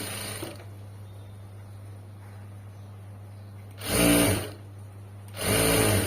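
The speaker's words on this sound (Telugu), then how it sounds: "ఇలా స్టిచ్ చేసుకుంటూ వెళ్ళిపోవాలి" Short, loud bursts of a sewing machine stitching the front part of a blouse stand out over a steady low electrical hum. No one speaks.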